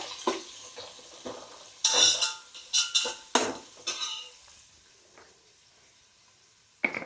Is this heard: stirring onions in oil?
yes